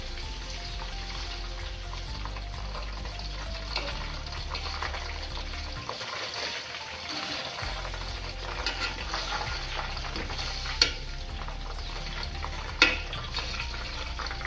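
Flowers frying in castor oil for homemade hair oil sizzle steadily in a pan, a continuous crackling hiss with occasional stirring clinks and a brief dip midway.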